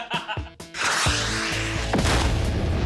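An SUV launched into the air in a staged Hollywood-style crash explodes with a heavy boom that swells into a long, sustained roar of blast and debris, loud and continuous after a brief choppy lead-in.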